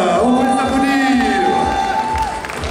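Audience at a summer manga and gaming convention cheering and applauding cosplay contest winners, loud crowd noise with whoops and shouts, clapping mixed into the cheering.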